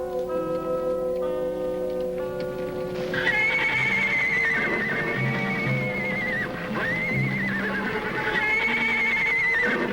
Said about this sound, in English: Indian ponies in the corral.